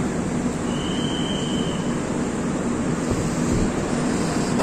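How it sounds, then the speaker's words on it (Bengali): The Coromandel Express pulls out of a station, a loud continuous rumble of wheels and carriages close by, with a brief high wheel squeal early on and no voices. "এই সেই অভিশাপ্ত ট্রেন ছেড়ে দিল"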